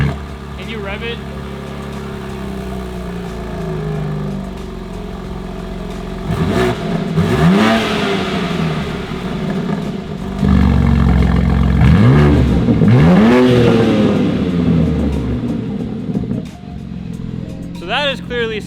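BMW M3/M4 G8x engine with Valvetronic exhaust valves revving, two strong rises and falls in pitch with a loud, rasping exhaust note over a steady idle, recorded close by with talk around it.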